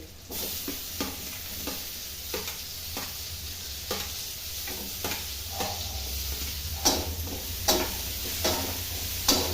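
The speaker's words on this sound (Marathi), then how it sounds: "हे टमाटर आणि हे चांगले तेलात फ्राय करणार आहे" Tomatoes fry in oil alongside eggplant, carrot, peas and chickpeas, giving a continuous close sizzle with repeated utensil scrapes and taps against the pan that grow a little louder toward the end, without speech.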